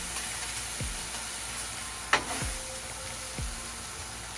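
Chicken and vegetables stir-fry on a Blackstone griddle with a soft, even sizzle, broken by a few scraping strokes of a spatula and one sharper clack near the middle.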